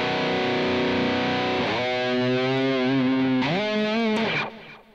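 Heavily distorted electric guitar chords through a Positive Grid Spark 2 amp's American High Gain model ring out, sustained and sliding between a few changes, loud and saturated before trailing off at the end.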